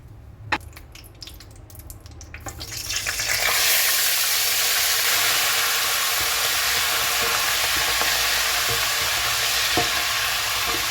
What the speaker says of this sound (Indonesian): Menggunakan minyak yang sama, kita goreng dulu sebentar udangnya.